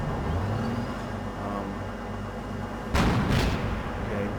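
A tank's main gun fires in DayZ Epoch, two loud close booms in quick succession near the end over a steady engine rumble, with no talking.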